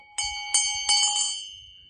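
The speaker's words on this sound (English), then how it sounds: "And they're really pretty good size. They're brass bells." A brass school bell, fairly large, rings three times in quick succession, each bright metallic strike ringing out and slowly decaying into a clear, sustained tone, close and alone.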